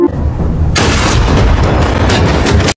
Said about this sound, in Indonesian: tiba-tiba Gondri muncul langsung menembakinya